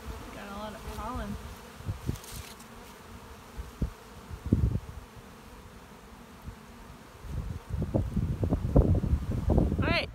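Honey bees buzz close by around a hive in bursts against gusty wind noise, with occasional rustling and knocks near the microphone.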